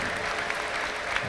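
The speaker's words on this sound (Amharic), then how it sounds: "አጨብጭቡ፣ ከዚህ በላይ አጨብጭቡ።" A church congregation claps together in sustained, dense applause, a steady wash of many hands close and loud with no clear break from start to end.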